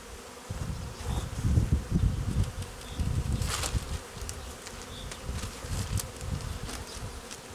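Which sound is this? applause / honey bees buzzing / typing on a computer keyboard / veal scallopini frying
honey bees buzzing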